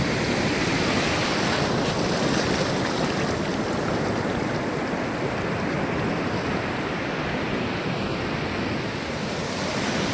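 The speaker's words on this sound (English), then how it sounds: "And a few waves rolling in across the reef." Pacific surf rolls across the reef of Minerva atoll in Tonga, a dense, continuous wash of breaking water with wind, steady and fairly close, with no voices.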